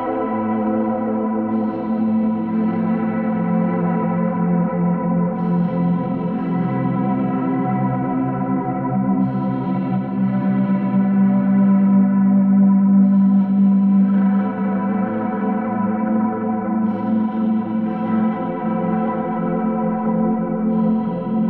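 Ambient electric guitar played through Line 6 Pod Farm with heavy chorus, echo and reverb, sustained swelling chords and notes ringing continuously and loudly, alone without any voices.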